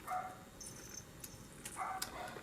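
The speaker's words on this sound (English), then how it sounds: "And I'm sure you can hear my dog in the background." A dog barks at a distance in the background, two short bursts of yips about two seconds apart, faint indoors while no one speaks nearby.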